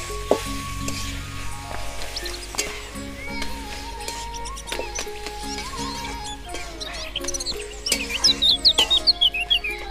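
Colocasia greens with turmeric stirred in a frying pan for a Bengali hilsa fish-head dish, soft sizzling and scraping strokes under background tones and chirps, ending in a quick run of louder stirring clacks.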